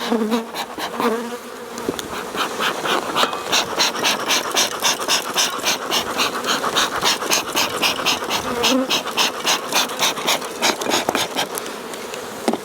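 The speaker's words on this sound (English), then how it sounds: "Lots of bees there, which is great." Honey bees swarm and buzz loudly around an open hive during an inspection, a thick, continuous drone with pulsing wingbeat texture that stays close and steady throughout, with no talking.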